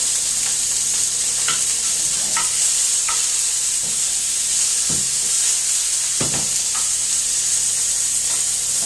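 Beef for a steak pie sizzling in a hot pan, a loud, constant hiss of frying fat with occasional clicks and scrapes of a utensil against the pan.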